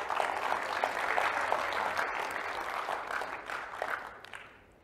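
Audience applause at an Indonesian seminar on micro-credentials welcomes a guest professor, a dense, steady clapping from a crowd that holds for several seconds before gradually thinning out.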